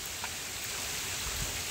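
Rain falls steadily near an overflowing dam, a dense, even hiss of drops with no voices.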